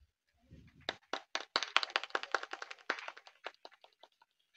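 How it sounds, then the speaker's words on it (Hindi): An audience claps for a few seconds, starting with sparse claps that swell into a brief burst and then thin out to scattered final claps, at a stage performance. "एक बार तालियां बजाइए सभी लोग।"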